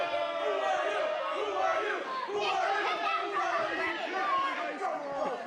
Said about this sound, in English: Crowd chanting, "Who are you?"